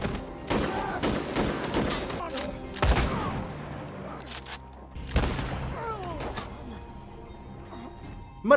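Bursts of gunfire with sharp cracks and thuds in quick clusters, mixed with crashes and a film-style soundtrack at moderate loudness.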